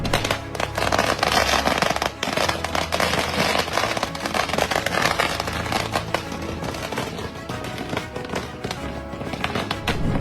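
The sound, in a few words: fireworks set off by youths celebrating a court verdict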